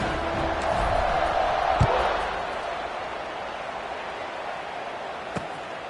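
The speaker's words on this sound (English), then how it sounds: "this crowd is buzzing after that last score" A stadium crowd in the NCAA 26 college football video game keeps up a steady, fairly loud murmuring roar, with a dull thud partway through and no clear speech over it.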